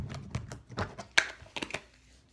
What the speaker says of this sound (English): It's like a clicky butter slime.